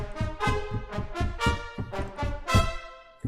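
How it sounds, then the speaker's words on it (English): Bold orchestral brass chords recorded with close microphones, very close and full, with punchy rhythmic accents and strong attacks repeating roughly every half second. "like literally you're up right next to the brass"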